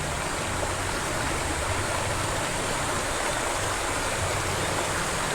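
Mountain river running near a riverside campsite, a steady broadband rush of flowing water, close and constant throughout with no voices.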